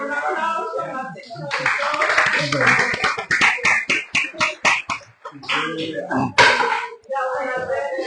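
Audience applause at a conversatorio on indigenous issues, a sustained burst of clapping in the middle, with voices talking before and after it.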